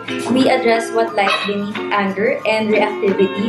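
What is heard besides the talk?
dogs barking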